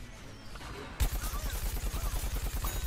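Machine-gun fire in the shooter game Plants vs Zombies Garden Warfare: a sudden, loud, rapid burst of evenly spaced shots that keeps going steadily to the end.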